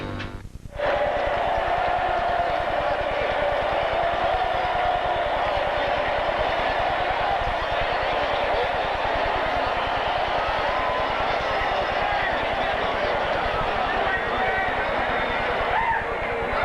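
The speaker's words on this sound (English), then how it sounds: "The crowd here at Busch Stadium in St. Louis chanting one last time, Jeffrey, Jeffrey" A stadium crowd at Busch Stadium in St. Louis chants for a player during Game 7 of the 1987 NLCS, a loud, continuous roar of massed voices filling the whole stretch.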